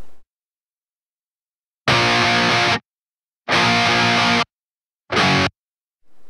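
Bright electric guitar driven through a TS 999 overdrive pedal, its distortion cranked, plays three loud, full-bodied bursts separated by dead silence, with no talking.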